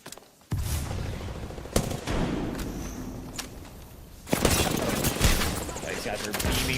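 Gunfire in the video game Apex Legends, bursts of rapid automatic fire and sharp single shots in several clusters, loud and close, with a voice talking over the shooting.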